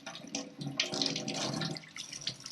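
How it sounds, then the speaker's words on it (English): A natural loofah sponge is wetted under running water from a tap: a steady, fairly quiet splashing stream with small shifting gurgles, with no talk over it. "So first of all, we wet it."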